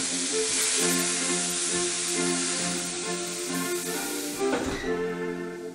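Steak sizzling steadily in a hot pan, a loud continuous hiss and crackle with a brief louder spatter near the end, no voice over it.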